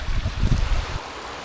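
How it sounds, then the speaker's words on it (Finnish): The Akujoki river in Lapland wilderness rushes in a broad, close, low roar of flowing water mixed with wind buffeting, loudest at first and easing toward the end. "Siinä se nyt virtaa Akujoki."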